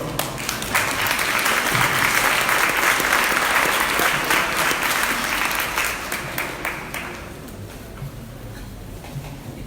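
A congregation at a Catholic inner-healing workshop gives a strong round of applause, dense and steady for several seconds before gradually thinning out.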